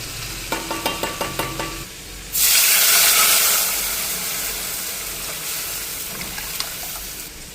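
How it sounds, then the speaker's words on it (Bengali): Starchy water poured off a pot of cooked rice in a home kitchen, a sudden loud rushing hiss that follows a few light clinks and slowly tapers into a softer sizzle, with a second pan frying nearby. "ভাত হয়ে গেছে গা, এই দেখো ভাতের মার ধরাইছি।"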